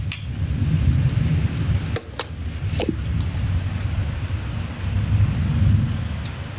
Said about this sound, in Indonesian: Sambil menikmati hujan di balkon aku